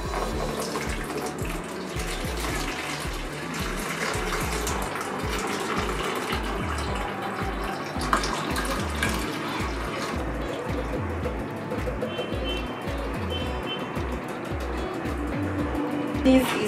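Tamarind juice pours and trickles through a sieve in a kitchen with a soft, continuous watery splashing. Faint talk can be heard in the background.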